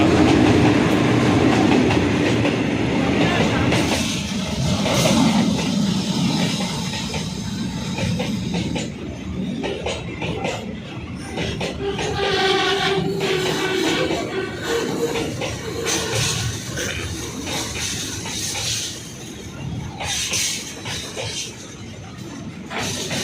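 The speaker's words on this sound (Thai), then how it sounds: "เป็นรถไฟขนส่งสินค้า" A long freight train rumbles past close by at Hua Mak double-track station in Bangkok, wheels clattering and clicking over the rails in a continuous loud roar with shifting metallic squeals.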